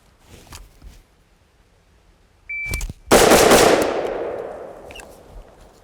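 Rifle shots in a shooting drill: one sharp report followed by a loud, close crack that rings out with a long decaying echo, with quieter handling noises before.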